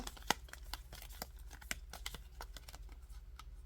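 Quick series of crisp riffling snaps and papery flutters, close and fairly quiet, like a deck of cards being shuffled repeatedly.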